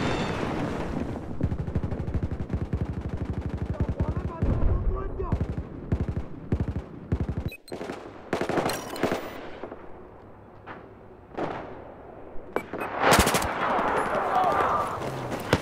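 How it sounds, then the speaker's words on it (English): Battlefield 4 Conquest Large match with rapid bursts of automatic gunfire and scattered single shots, loud and close at times, broken by short quieter gaps, with players talking over the shooting. "that was the shooting in here"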